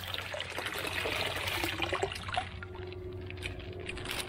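Water pours and trickles out of a container in a steady, close stream that tapers off toward the end.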